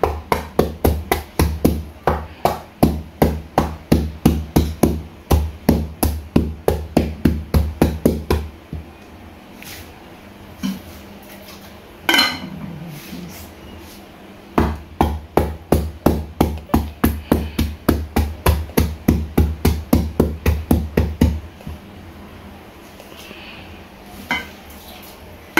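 Ginger is pounded hard and fast to crush it for a Jamaican sorrel drink, making loud rapid thuds in long steady runs with a pause in the middle and no voices.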